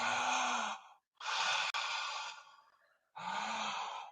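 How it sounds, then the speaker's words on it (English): Three deep open-mouth breaths of full-body breathwork, each a loud, close, breathy rush of air lasting around a second, separated by short silent gaps. "Keep your mouth wide open, and let's keep it open for the rest of this demonstration. Now, let's start taking full body breaths"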